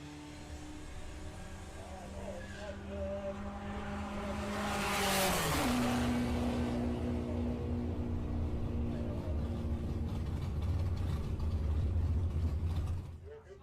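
A VW Passat and a Baja launch together in drag racing at Santa Pod, engines rising in pitch through the gears, then a loud close pass and a fading roar with further engine noise after.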